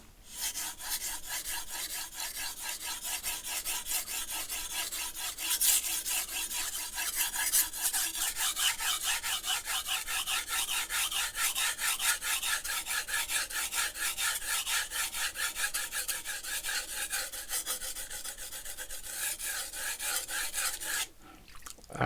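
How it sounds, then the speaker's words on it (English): A knife blade is drawn steadily over sandpaper in fast, even back-and-forth rasping strokes, a close, continuous scratchy hiss that runs almost without pause. "me sharpening their knives on sandpaper"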